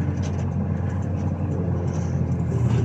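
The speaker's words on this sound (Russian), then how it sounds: "Это задняя щетка у нас вышла из-под контроля." The rear brush of a snow-clearing machine runs out of control in a Belarusian village, giving a steady, close, low mechanical rumble and churning noise with no speech.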